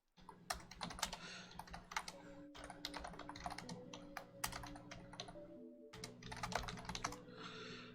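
Steady clicking keystrokes on a computer keyboard, close and clear, in quick irregular runs with brief pauses, over a faint low hum of game background sound.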